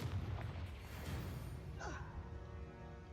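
A Confringo blast spell goes off in a wizarding video game, a faint, distant-sounding boom with a short rising whoosh over quiet background game noise.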